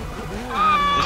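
A race car engine in Forza Motorsport 6 gives a loud, steady, tonal whine that climbs in pitch and then holds for about a second, with no other sounds.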